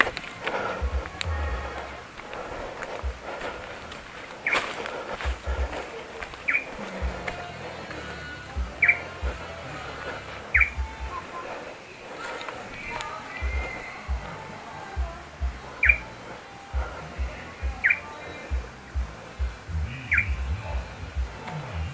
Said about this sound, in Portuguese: Passarinho aí.